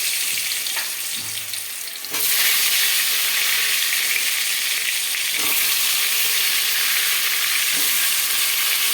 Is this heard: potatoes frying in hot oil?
yes